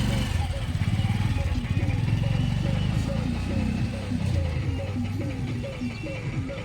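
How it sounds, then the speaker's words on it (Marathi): A chugging engine putters at a steady mid-level pace, its pulsing rhythm continuing throughout like a tractor moving past. "आला बघा ट्रॅक्टर"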